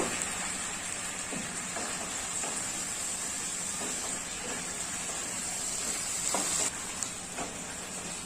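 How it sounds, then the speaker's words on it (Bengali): Chicken pieces sautéed with garlic paste, spices and salt in a pan for a potato chicken curry give off a steady, close sizzling hiss with faint stirring clicks throughout, and no one speaks. "2 মিনিট খুব ভালোভাবে চিকেনটাকে আবারও কষিয়ে নিলাম।"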